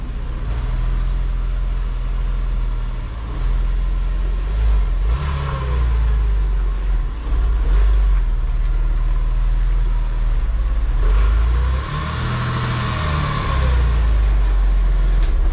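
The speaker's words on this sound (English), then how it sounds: "we're gonna pull it into this bay here, put it up on some ramps" A Porsche 996 911 pulls slowly into a garage bay and up onto ramps. Its engine gives a steady, close rumble with a couple of mild revs and no voices.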